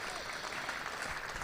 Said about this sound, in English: good applause again for another good over